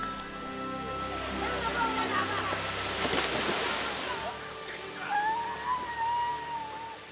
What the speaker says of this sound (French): la cascade de Mont. Haute de 75 mètres, elle fait partie des sites les plus prisés par les visiteurs.